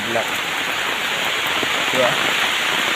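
Heavy rain pours onto a street in a dense, constant hiss, with a faint voice speaking briefly beneath it.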